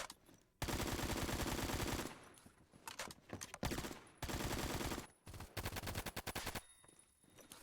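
An AKM assault rifle in the shooter game Phantom Forces fires several loud, sustained full-auto bursts of rapid cracking shots, separated by short pauses and a few quick single shots.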